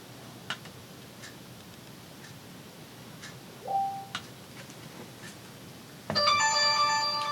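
A mobile phone starts ringing near the end, a bright repeating electronic tone that follows quiet ticking and a brief faint beep.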